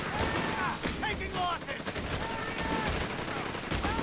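MG 42 machine gun fire in the strategy video game Company of Heroes 3, rapid bursts of gunfire crackling amid other battle shots and small booms, with a voice talking over the fighting.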